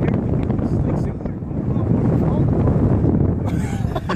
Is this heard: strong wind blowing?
yes